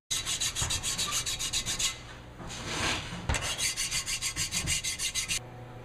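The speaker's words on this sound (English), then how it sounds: "So this is lapping valves." Engine valves being lapped into their seats by hand on an HH120 engine rebuild, a steady rhythmic gritty rubbing in quick back-and-forth strokes, close and fairly quiet, with a brief pause midway.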